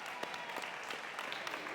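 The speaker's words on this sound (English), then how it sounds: "please give another round of applause for your fall all-county, all-conference, and regional qualifiers." Audience applause at a high school athletic awards ceremony, a steady stretch of many hands clapping with no voices over it.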